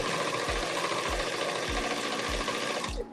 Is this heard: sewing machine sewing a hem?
yes